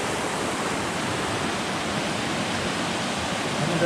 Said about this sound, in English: Ricketts Glen has over 24 waterfalls, with the tallest being over 90 feet tall.